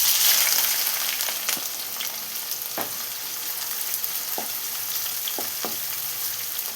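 Two medium onions, sliced lengthwise, fry in oil in a pan while making egg rice, giving a steady loud sizzle with a few soft stirring knocks and no voices.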